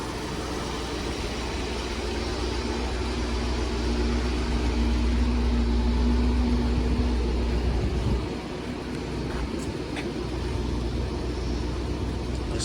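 A 1960 Cadillac Eldorado Biarritz with the 390 Tripower V8 idles smoothly through its stainless exhaust, a low, even, quiet rumble that holds steady close by without revving.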